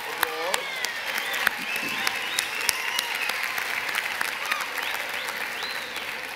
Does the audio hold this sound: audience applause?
yes